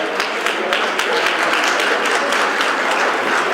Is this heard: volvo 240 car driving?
no